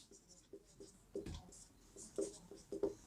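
Pen or chalk writing out a Class 9 maths solution on lines and angles, with soft scratchy strokes in short bursts over about three seconds, close and fairly quiet, with no talk.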